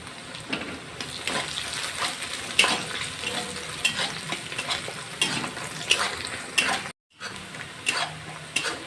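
Curry leaves hit frying onions in hot oil for kanda poha, producing a continuous loud sizzle with stirring scrapes and utensil clinks, broken by one brief dropout.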